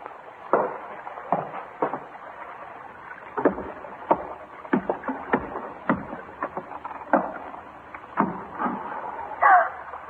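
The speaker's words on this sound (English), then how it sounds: "small boat just tied up alongside." A small boat knocks and bumps as it ties up alongside a larger vessel in a 1956 radio drama, with irregular wooden thuds and creaks over a steady hiss of water, moderately close and without speech.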